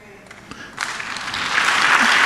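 Church congregation applause that rises from scattered claps into a loud, dense burst over about two seconds.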